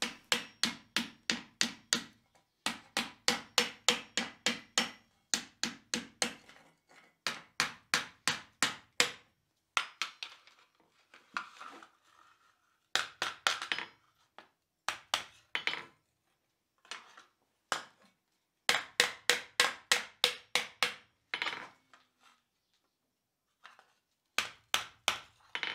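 Blacksmith hammering shapes a steel fireplace shovel over a steel ball set in the anvil's hardy hole. Loud, ringing metallic blows come in rapid rhythmic bursts of several strikes each, separated by short pauses, close up with no talking.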